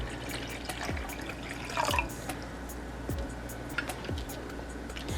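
Water for a lemon drink is poured into a blender cup, heard as a quiet trickle with a few distinct falling drips and splashes at an uneven rhythm.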